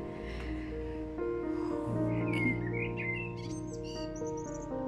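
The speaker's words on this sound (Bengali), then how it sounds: "আর চারিদিকে শুধু পাখির কিচিরমিচির" Birds chirp and tweet outdoors in short, scattered calls, with several overlapping near the middle, above a steady low hum.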